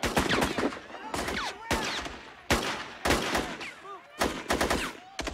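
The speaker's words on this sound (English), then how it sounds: "Alina, you've seen the shooting." Heavy gunfire from rooftop snipers in a 1997 HBO war film: repeated loud bursts of shots in rapid clusters, some automatic, with brief pauses and echoing tails between volleys.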